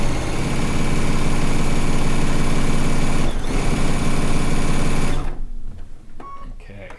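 Sewing machine stitching a row of a log cabin quilt, a loud steady whirring hum running close up for about five seconds before it stops and faint handling noises follow.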